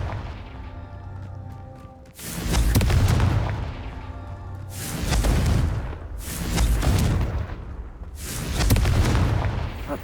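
Confringo fire spell blasts in Hogwarts Legacy on PS5, four heavy booming explosions spaced about two to three seconds apart, each with a loud crackling burst that decays slowly, close and alone with no talk.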